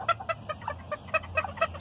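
A handful of young cockerels cluck in a quick, uneven series of short calls, near and moderately quiet, with a faint low hum underneath.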